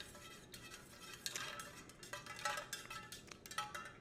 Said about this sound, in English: I got me a little fork in here because I got something else I gotta show y'all. Okay, we're gonna stir this up.